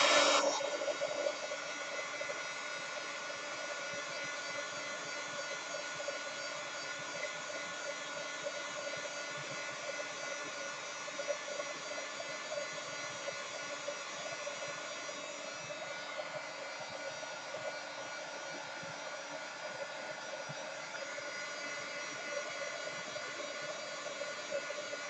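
A hair dryer runs continuously over a watercolor penguin painting, a steady mid-level rushing hiss lasting throughout with no breaks and no talk.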